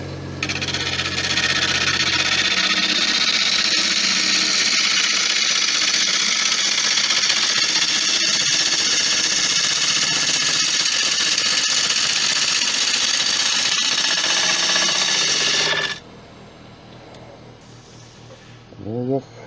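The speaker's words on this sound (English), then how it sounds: "I'm going to put a new edge on this gouge." A woodturning gouge is sharpened on a grinder with a loud, steady whir and grinding hiss that stops abruptly after about sixteen seconds, leaving quiet room noise.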